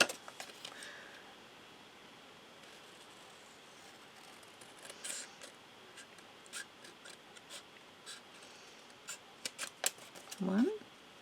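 Scissors cut around the edge of a paper cover for a memory chest project, with quiet rhythmic snips and rubbing that get louder near the end, and a voice speaks briefly at the close.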